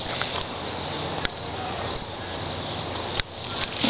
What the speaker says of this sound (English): you see all these bees flying down to each one of these little hives